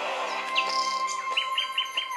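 A nightingale sings a bright series of chirps and rapid repeated tweets, clear and fairly close, over a soft sustained musical background.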